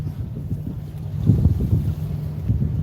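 Strong sustained wind buffets an open boat on Oneida Lake in winter, a steady low rumbling roar with gusty surges, heavy wind noise on the microphone and faint water slapping underneath.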